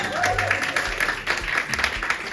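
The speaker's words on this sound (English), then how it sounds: "round of applause please everyone" A crowd applauds in a steady wash of clapping, with a voice faintly audible underneath.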